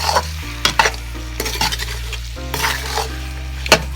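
Spices for a creamy chicken karahi sizzle steadily in a hot pan while a utensil stirs them, with several scraping, clinking strokes against the metal over the constant frying hiss; no one speaks.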